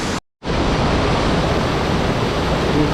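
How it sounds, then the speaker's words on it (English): A waterfall cascade at Mindo, Ecuador pours in a loud, dense, steady roar heard up close, broken only by a brief dropout near the start, with no voices. "Cool cascade from here."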